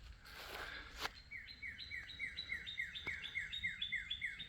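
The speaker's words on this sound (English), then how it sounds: "Hear the birds singing." Birds chirp and sing outdoors in a steady run of repeated short descending whistles, fairly clear over a quiet background, with a brief rustle near the start.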